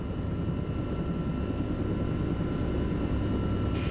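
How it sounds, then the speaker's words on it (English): Military troop helicopters fly in a steady, unbroken rotor and engine drone, a dense low roar that holds constant at moderate loudness with no talk. "Major Mickleby makes the critical decision to bring in the troop helicopters."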